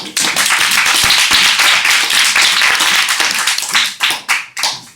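A classroom of students claps for a classmate, a brisk burst of many hands that runs steadily, then thins into a few scattered final claps before fading.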